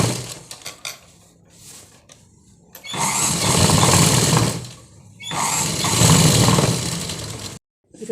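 A sewing machine runs in two sustained bursts, stitching a large seam on fabric for a cut garment. The motor whirs steadily through each run with a short pause between, after a few quieter clicks and handling sounds.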